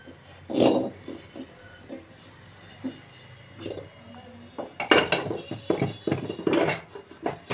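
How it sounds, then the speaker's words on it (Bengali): Dishes, pots, pans, a pressure cooker and a kadai being scrubbed by hand, with repeated clanks and scraping rubs of metal, irregular and close, growing busier and louder in the second half. "এই যে বাসনগুলো মেজে নিচ্ছিলাম"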